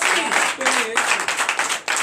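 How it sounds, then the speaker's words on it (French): Church congregation at a night deliverance service clapping in acclamation, a steady run of rhythmic claps with cheering voices and sung or shouted tones rising over them. "Donnez l'acclamation à Jésus"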